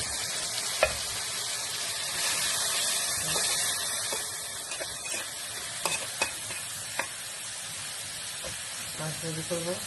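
Fish frying in a pan gives a steady, fairly quiet sizzle and hiss, broken by a few sharp clicks and taps of a utensil against the pan.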